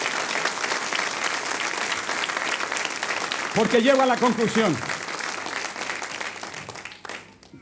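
A church congregation claps loudly and steadily while a preacher speaks over it, with the clapping fading out near the end.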